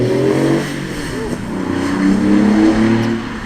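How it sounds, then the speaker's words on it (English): A Porsche 911 with a 2-litre turbocharged engine revs and accelerates nearby at a classic car meet, a rising, fluttering engine note that swells and eases over about three seconds. "very nice sound from that Porsche 911"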